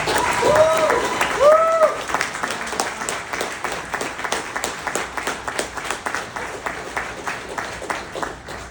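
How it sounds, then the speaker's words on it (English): Audience applause at an association's past presidents recognition ceremony, a dense sustained clapping that starts loud with a few whoops and cheers, then settles into steady clapping that continues through the clip. "I want to have the loudest round of applause for Jeff, everybody."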